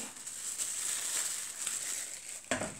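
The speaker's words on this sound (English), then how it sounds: "That should obviously go in our plastic bag." A plastic bag crinkles steadily and close up while a Trangia 27 storm cooker is packed away, giving a continuous rustle with a sharper crackle near the end.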